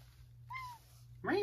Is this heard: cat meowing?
yes